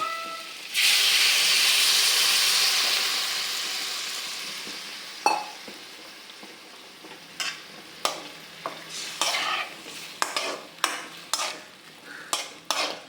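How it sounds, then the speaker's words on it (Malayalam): Tamarind extract hits a simmering eggplant and shallot curry with a loud steamy hiss that slowly fades, followed by a series of short scraping stirs and clinks from the pan, with no talking. "ഇനിയിപ്പം നമുക്കിതിലേക്ക് പുളി പിഴിഞ്ഞ് വെച്ചിരിക്കുന്നത് ഒഴിച്ചു കൊടുക്കാം"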